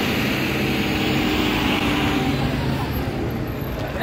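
Heard from inside a car stuck in a dusty road traffic jam, a steady loud broadband rumble of engine and road noise holds throughout with little change.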